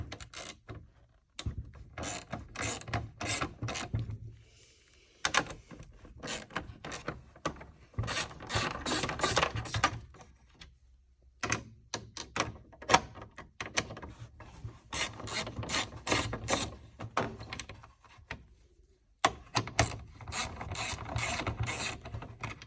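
Screws come out of the speedometer cluster of a first-generation Cummins truck, heard as close, irregular bursts of small mechanical clicking, ratcheting and rubbing with short silent gaps between them.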